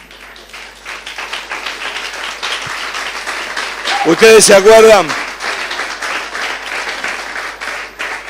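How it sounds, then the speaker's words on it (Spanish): A church congregation applauds throughout, a steady wash of clapping that swells around the middle while a preacher's voice rises briefly over it. "Sí, puede aplaudir tranquila."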